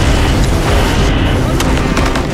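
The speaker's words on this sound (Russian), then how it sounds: "Советские батареи дали новый залп." Soviet artillery battery firing a volley in a wartime night battle, a loud dense roar of booms blending into one continuous rumble.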